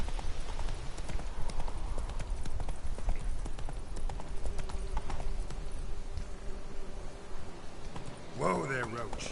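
Roach, the horse in The Witcher 3: Wild Hunt, trots with close, rhythmic clip-clopping hooves that go on throughout, while someone speaks over the hoofbeats.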